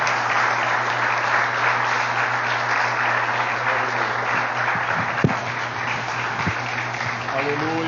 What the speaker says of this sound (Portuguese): E as palmas louvam, engrandece o nome de Jesus